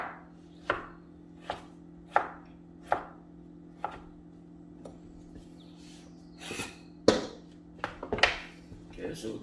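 A knife chopping tomatoes and onions on a board, single sharp cuts at a slow even pace followed by a few quicker, rougher strokes near the end, close, with a steady low hum underneath.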